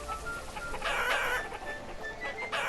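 Chickens clucking in the village-building game Banished, soft repeated clucks and a brief crowing call over quiet ambient game sound.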